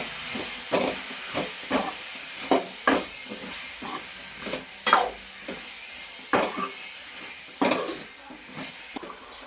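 Brinjal sautéed in a pan with salt and a spice, stirred in short repeated scrapes and sizzling bursts over a steady background hiss, close and moderately loud with no talking.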